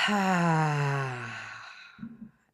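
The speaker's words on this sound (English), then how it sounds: "if you're comfortable with an audio exhale, feel the vibration in your throat and your chest one more time" A long, voiced exhale through the throat during a breathing exercise, a deep, resonant hum sliding down in pitch and fading, followed by a shorter breathy release, close and alone.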